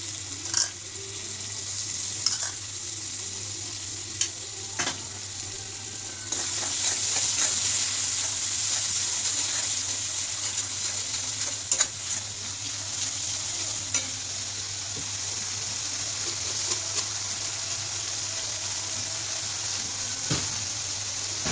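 Shrimp curry masala cooked with potatoes and pointed gourd sizzles steadily in hot oil after yogurt is added. A spoon stirs and scrapes the pan now and then over the constant frying hiss, and nobody speaks.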